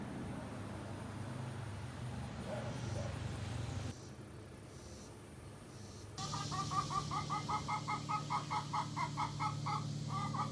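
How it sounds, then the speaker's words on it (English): Chickens cluck in a rapid, rhythmic series close by, following a stretch of muffled outdoor noise. "Can you hear the chickens?"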